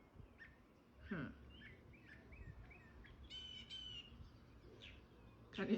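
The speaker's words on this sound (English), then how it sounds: "Do you hear the bird singing?" A bird sings outdoors in a series of brief chirps, squawks and short warbled phrases at moderate distance, faint and alone over quiet background hiss.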